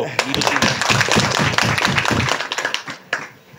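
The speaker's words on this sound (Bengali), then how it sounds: "তো আমরা হাততালি দেব।" Hands clap in a quick, steady rhythm at a political party council gathering in a park, a group applauding together for a few seconds before the claps thin out and trail off near the end.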